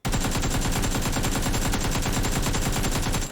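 AKM rifle in PUBG fires a continuous, very loud full-auto burst of rapid, evenly spaced shots lasting about three seconds, close and alone with no talking.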